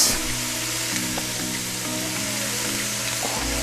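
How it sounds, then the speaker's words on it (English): Vegetables sautéing in a pan for a pot of chili in a home kitchen, giving a continuous, moderately loud sizzle under a layer of steady background music. "We're gonna saute them until they're soft."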